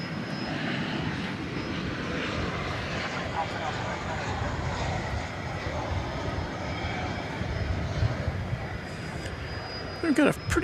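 United Express Embraer 175 jet at DFW Airport bound for Houston, a steady broad engine roar at middle distance with a commentator talking over it throughout.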